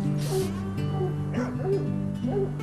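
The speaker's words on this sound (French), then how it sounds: "Pourquoi il aboie?" A pet dog in a park barks and yips repeatedly in short bursts with whimpering tones between them, close and loud, and a faint voice can be heard in the background.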